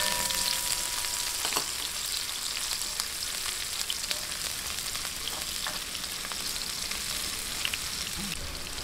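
Garlic and onion sautéing in a pan for Filipino-style corned beef macaroni, a steady close crackling sizzle with small pops and stirring scrapes throughout, no talking.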